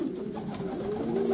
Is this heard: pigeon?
yes